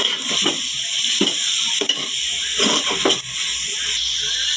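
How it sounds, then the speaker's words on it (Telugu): Prawns fry in a pan with drumsticks (moringa pods) for an egg and prawn curry: a steady, close, loud sizzle, broken by several soft clattering stirs. "ములక్కాళ్ళు బాగా మగ్గిన తర్వాత వేయించి పెట్టుకున్న రొయ్యలు వేసుకోవాలి బాగా వేయించుకుందాం"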